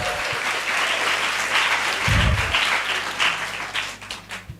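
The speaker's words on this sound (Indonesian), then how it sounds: "Tepuk tangan untuk Darul Falah." An audience at a Ramadan lecture in an Islamic boarding school breaks into sustained, loud applause that fades toward the end, with a brief low thump partway through.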